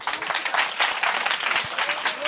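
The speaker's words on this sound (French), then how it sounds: "Eh les gars, on applaudit" A studio audience claps on a talk show, a brief burst of mid-level applause lasting a couple of seconds, with voices talking over it.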